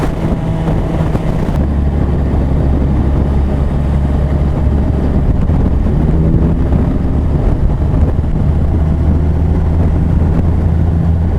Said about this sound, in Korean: 바람 진짜 많이 부네